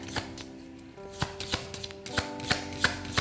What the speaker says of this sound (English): Let's have a shuffle.